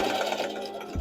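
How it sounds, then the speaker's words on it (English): A sewing machine stitches together the elastic ends of a hair bonnet, a brief steady mechanical whir with fast needle rhythm, close and alone, with a low thump at the end. "Bring the ends of the elastic together like this, and I'm going to stitch along here."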